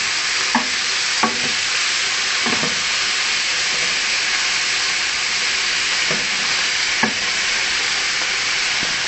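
Chopped fish mixture cooking for a fish pie is stirred in a hot pan, a steady frying sizzle and steam hiss with several soft scraping strokes of the spoon at irregular intervals, close and fairly loud, no talking.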